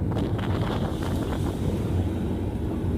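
Steady, loud rush of water and wind as a cruise ship churns through the sea in the evening, heard from the third deck, with gusts buffeting the microphone throughout.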